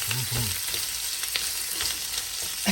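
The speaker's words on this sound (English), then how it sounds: "And just brown them up. We get that little bit of olive oil in there to help bring that natural fat out." Polska kielbasa browns in olive oil in a pan with a steady close sizzle and a few soft stirring clinks.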